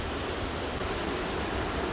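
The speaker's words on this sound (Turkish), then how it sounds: "görüyorsunuz şelale akıyor ve bayağı su var arkadaşlar" Düden waterfall flowing, a steady, dense rush of falling water that holds at an even level throughout, broad and continuous with no pauses or voices.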